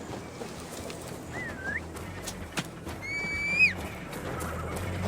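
A horse whinnies in Assassin's Creed Valhalla, a single rising and falling neigh heard clearly over a quiet outdoor ambience with faint wind and scattered soft thuds.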